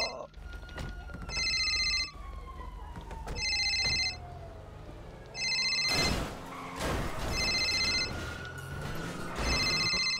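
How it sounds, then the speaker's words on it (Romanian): A phone rings in a FiveM GTA role-play game, repeated electronic ring bursts recurring every couple of seconds over thuds and game noise. "sună telefonul, m-a disperat să nebunesc"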